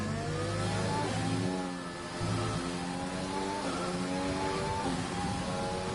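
Formula 1 car engine in a racing video game, revving steadily and close while the driver weaves to warm the tyres on the Vietnam circuit, with a brief dip in pitch partway through.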